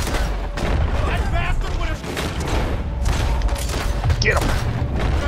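Dense gunfire during a bank robbery shootout in Red Dead Redemption 2, with rapid overlapping shots and booms over loud continuous action noise, and voices talking and shouting throughout.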